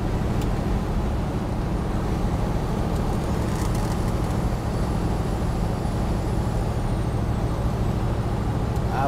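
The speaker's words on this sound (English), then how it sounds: "I'm hoping the audio can catch that blower motor cramming air through all these vents." A 1979 Ford F150 4x4 Ranger's blower motor pushes air through the cab vents as a loud, steady broadband rush that mixes with road and engine noise from the moving truck, continuous with no talk.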